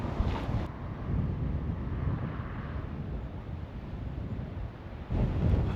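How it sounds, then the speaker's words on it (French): Wind gusting across a beach on the Camino del Norte coast, a steady roaring rush buffeting the microphone for several seconds, with stronger bursts at the start and end. "Bon bah comme vous pouvez le voir, il y a un peu de vent."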